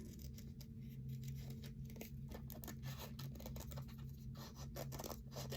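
Scissors cutting a paper cardinal for a wreath, with close, quiet snipping and rustling paper over a constant low background hum.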